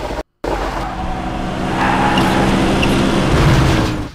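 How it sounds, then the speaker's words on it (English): A car engine drives along in The Suffering video game, a steady loud motor drone with a rising roar that builds and holds, briefly cut by a short gap near the start. "didn't know that Hermes could drive a car"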